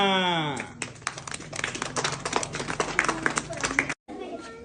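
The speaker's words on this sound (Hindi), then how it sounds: "तालियां।" Children clap together in a classroom after reciting a multiplication table, a quick, busy patter of many small hands that follows a brief chanted voice and stops abruptly.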